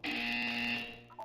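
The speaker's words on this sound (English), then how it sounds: "You will hear a buzzer." A buzzer from the video game Portal 2 drones in a single steady electronic tone for about a second before fading, clear and fairly close, with a faint short beep trailing after it.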